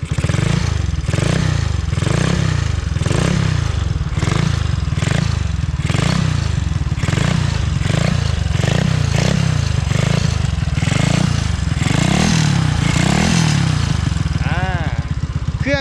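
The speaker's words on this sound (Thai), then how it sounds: "เดี๋ยวมาลอง ดูคันเร่งกันสักหน่อยนะครับ" A Honda Wave 100 motorcycle fitted with an Enpro carburetor idles loudly up close and gets repeated throttle blips, rising and falling revs with mechanical clatter throughout, under occasional talk.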